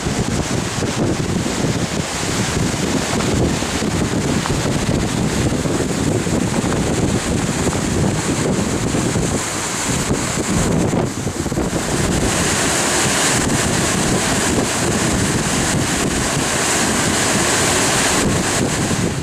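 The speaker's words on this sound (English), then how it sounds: "Still a pretty amazing volume of water coming down right now." A fast-flowing river swollen after rain rushes below the Cow Green Reservoir dam. It makes a loud, continuous roar of water, heavily mixed with wind buffeting the microphone, with no speech.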